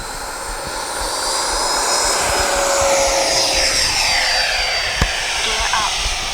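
A Freewing F-22 RC model jet roars overhead with a loud, sustained turbine whoosh that swells and sweeps in pitch as it passes, with a brief sharp click near the end.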